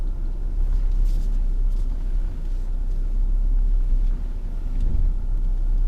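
A pickup truck with 19-inch wheels crawls through a sand-box obstacle on an off-road course, giving a steady, close engine rumble with no one speaking.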